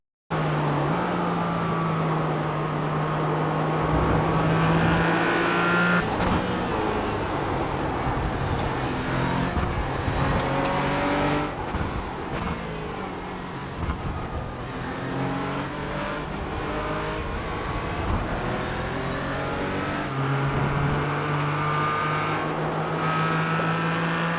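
A Porsche Cayman GT4 Clubsport race car engine in the iRacing simulator revs and drones steadily, climbing through gears with brief shift dips. It stays loud and continuous, with no voices.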